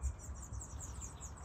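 Faint, high repeated chirps of baby chicks in a nest under a gutter in an aviary, soft rapid peeps over low rumbling background noise, no talking.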